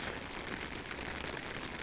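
Rain falls steadily outdoors on a field where poultry are out grazing. It makes a faint, even hiss with no voices.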